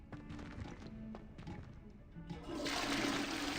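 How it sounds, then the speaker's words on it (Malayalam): Toilet flush in the Hogwarts Legacy video game, a few soft knocks and clacks, then a rising rush of swirling water that fills the end, fairly quiet overall. "ഓ, ഫ്ലഷ് അടിക്കാനത്"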